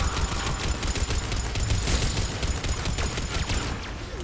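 Turret gunfire in Mass Effect 3 online co-op, a sustained rapid volley of shots rattling continuously for a few seconds, fairly close and steady, with no voices over it.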